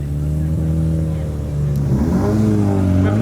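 A Mazda RX-7 rotary engine revs close by as it leaves a tuner car meet, a steady loud drone that climbs in pitch toward the end, with voices talking over it.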